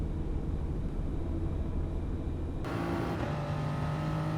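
Race car engine accelerating in third gear on the Dragon Trail II track, a steady loud droning pitch that climbs and then jumps as the revs build, with no talking.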